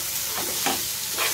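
Chilli flakes, turmeric and coriander powder stirred in a hot pan over low flame, a brief close sizzle with a few soft scraping stirs, alone without talking.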